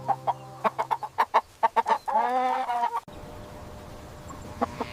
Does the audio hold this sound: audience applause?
no